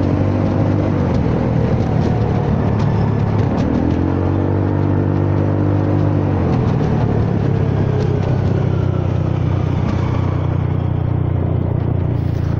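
A Honda Forza 300 scooter accelerates through city traffic, its engine droning loud and close with rising and falling pitch as the throttle is twisted, under constant wind rush.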